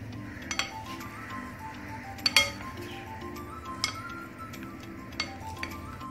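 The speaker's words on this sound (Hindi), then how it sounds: "अब अच्छे से इनको हम मिक्स करेंगे।" A spoon clinks against a bowl while beef tikka marinade with ginger-papaya paste and dry spices is mixed, giving faint, scattered clinks and taps over a quiet background hum.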